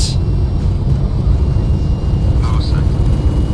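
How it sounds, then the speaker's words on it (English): Jet engines of a British Midland F28 in a flight simulator roar steadily at takeoff thrust, a loud broad rumble filling the clip, with short higher tones and clicks near the end. "We'll set takeoff thrust."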